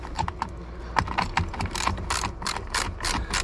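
A ratchet tightens the starter bolts on a Sea-Doo during a starter and solenoid replacement, giving a close, steady run of rapid clicking strokes that continues throughout.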